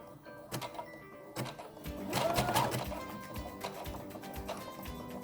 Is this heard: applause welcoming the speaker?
no